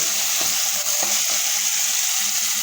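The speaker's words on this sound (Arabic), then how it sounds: "وبعد ما اتقدح والتقليب المستمر وابتدى يدبل" Food fries in a pan under constant stirring: an even, bright sizzle runs throughout, broken by a few soft scraping strokes.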